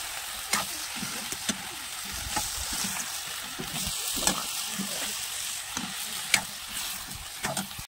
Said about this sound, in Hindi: तेल गर्म हो गया, मैं तड़का लगाती हूँ